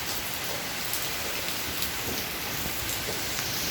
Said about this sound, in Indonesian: hujan beserta angin kencang menyelimuti